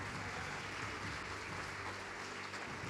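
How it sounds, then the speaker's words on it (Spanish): Church congregation clapping together in praise during a worship service, a steady dense wash of applause filling the room for a few seconds with no voices on top. "Aplauda al Señor."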